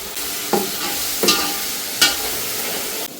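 Masala paste with ginger-garlic paste and homemade black masala fries for a Marathi-style mud crab curry, a steady close sizzle broken by three sharp scraping spoon strokes roughly a second apart, with no voices.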